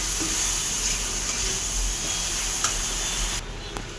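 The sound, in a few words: stirring fish curry in a sizzling pan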